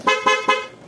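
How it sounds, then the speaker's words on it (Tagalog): Three quick, loud beeps of a Honda ADV160 hybrid scooter horn sound in rapid succession, close and clear, with a short fading tail after the last toot. "So, atong testing ato ang horn."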